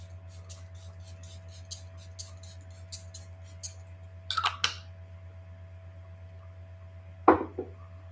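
Two short bursts of fine Charlotte Tilbury setting spray mist hiss, one after a pause and a bit stronger, over a steady low hum and faint clicking.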